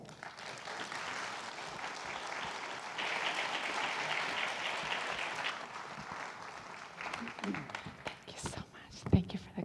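Applause from an audience welcoming the speakers at an evening talk on avoiding Alzheimer's, a dense, steady wash of clapping that swells midway, then thins into scattered claps and a few louder close ones at the end.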